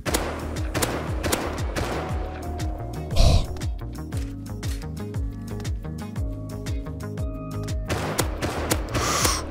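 Sustained gunfire in the survival game Rust crackles in rapid, sharp bursts of close, loud shots that repeat almost without pause, with a heavier blast midway; no one talks.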